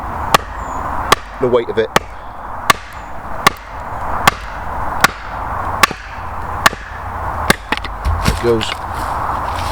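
A knife is driven through a log at an autumn wild camp, the wood giving sharp repeated pops and cracks roughly every second, close and loud, with someone talking quietly over the splitting.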